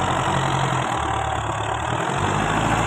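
A tractor engine runs steadily in a laser-levelled field with a hard pan, a loud continuous idling drone with a low rumble and no talk.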